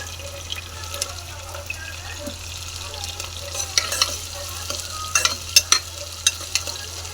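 Onions and green chillies frying in a pan for meal maker pulao, a steady soft sizzle with a run of louder clinking stirs toward the end, close by and without talk.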